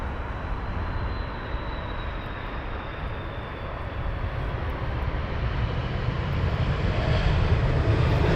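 A Turkish Airlines airliner at Heathrow Airport gives a steady broad jet engine roar with a faint high whine, slowly growing louder toward the end, with no voices.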